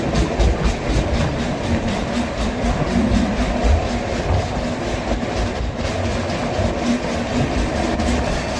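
A Mysuru–Kakinada Town festival special train runs close by in a loud, steady rumble of wheels and carriages, with a faint clickety-clack running through the noise and no voices.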